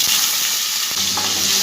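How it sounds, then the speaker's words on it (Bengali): Potatoes frying with a hing spice tempering in a pan, a steady loud sizzle filling the clip with a brief stirring scrape near the middle. "আলুটা একটু ভালো করে ভাজা ভাজা করে নেব।"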